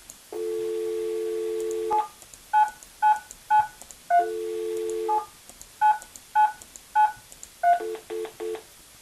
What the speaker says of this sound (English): Click on login and use your dial pad to enter your agent ID.